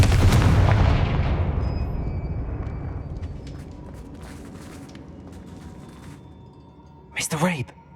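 A Confringo spell in the video game Hogwarts Legacy goes off as a loud booming blast at the start, rumbling and fading over several seconds before a brief voice-like burst near the end.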